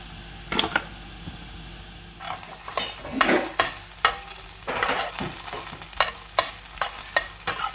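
Onions frying in a pan with salt and ginger-garlic paste for cauliflower egg rice, with a low sizzle broken by bursts of stirring and spatula scrapes in an uneven rhythm, no talking.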